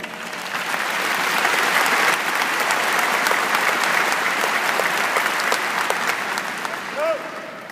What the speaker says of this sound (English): round of applause for all our awardees